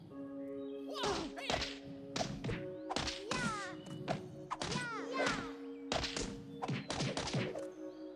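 Punches and strikes from melee combo attacks by the character Nora in the beat-'em-up game Islands of Wakfu land in a rapid, steady series of whacks and thuds, with whooshing swings and musical tones underneath.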